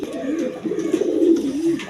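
Pigeons coo at a bird seller's stall, low rounded warbling calls rolling on in overlapping phrases, close and fairly loud.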